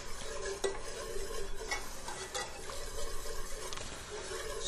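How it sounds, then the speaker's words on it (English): A whisk stirs chicken broth into a thickening sauce in a pan, scraping and swishing continuously with a few sharp metallic taps against the pan. "I'm going to add in chicken broth. And I'm going to add it in a little bit at a time. And I'm really going to whisk it"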